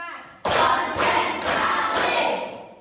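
Hand claps from a class counting along in an Indonesian lesson, four loud, evenly spaced claps of many hands at once, each with a sharp onset and short decay.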